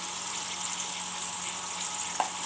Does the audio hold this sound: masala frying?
yes